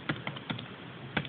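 Quiet typing of a command on a Windows 8 laptop keyboard, four or five separate key clicks spread irregularly over just over a second, close and alone with no voice.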